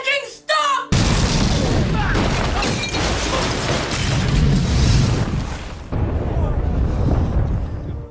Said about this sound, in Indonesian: radius ledakan dari bom tersebut sangatlah luas